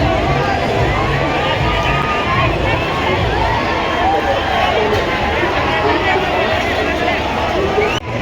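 A large crowd at the Rajim Kumbh fair makes a dense, steady babble of many voices, with shouts and fairground noise blending into a loud, continuous roar.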